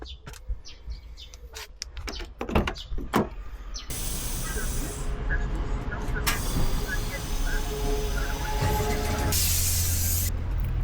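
A gas station air compressor hisses steadily into a Shineray Cub 50 motorbike tire, a loud continuous rush after a few clicks and handling knocks, cutting off and restarting near the end.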